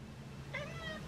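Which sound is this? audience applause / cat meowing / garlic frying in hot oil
cat meowing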